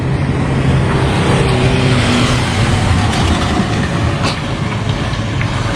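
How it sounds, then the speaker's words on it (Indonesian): A car labors up the steep mountain road toward the Hira cave on Jabal Nur, a steady loud engine and road rumble mixed with wind, continuous throughout with no pauses. "Itu adalah salah satu mobil yang naik."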